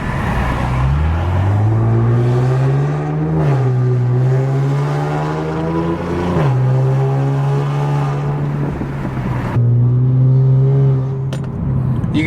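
An Infiniti Q60 fitted with AMS full downpipes accelerates hard through several gears, its loud, rasping exhaust climbing in pitch and then dropping at each shift, with a brief lull and a final pull near the end.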